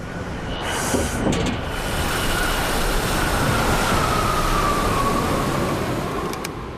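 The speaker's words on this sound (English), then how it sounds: "It's hard to stop a train." A train runs steadily along a test range, giving a continuous loud rumble and rail roar that holds for several seconds, with a faint high whine and brief squeals over it.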